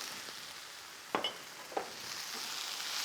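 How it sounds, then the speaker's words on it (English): Herbs — parsley, dill, cilantro and green onions — sizzle quietly in a frying pan, a steady soft hiss broken by two short louder crackles as they are stirred, with no talking. "So I'm gonna go ahead and add all the rest of my herbs in."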